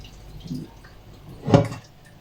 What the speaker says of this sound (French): Je suis en train de vider l'eau des carottes.